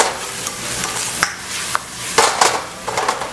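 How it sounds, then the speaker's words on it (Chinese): Spicy cabbage stir-fried in a wok on a home stove makes a steady sizzle with scraping and clinking of a spatula against the pan, several sharp strokes standing out. "再拌炒一下"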